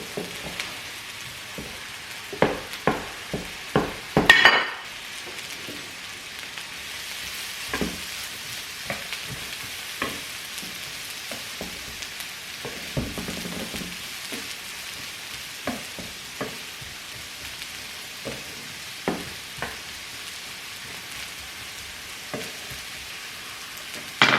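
Onion, jalapeno and a big clove of garlic sauté in turkey bacon fat, giving a quiet continuous sizzle dotted with crackles and pops, plus a burst of stirring clatter early on.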